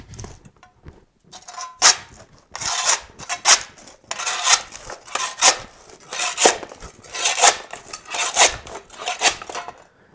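A shovel prying up glued-down carpet tiles, giving a series of harsh scraping and tearing bursts in an irregular rhythm, each close and fairly loud, separated by short gaps.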